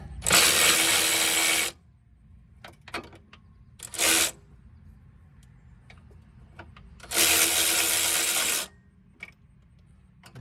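A handheld electric impact gun zips a nut down on a bolt while a lower control arm is replaced on a 2004 Chevy Malibu, in two long loud bursts and one short one, with quiet clicks between.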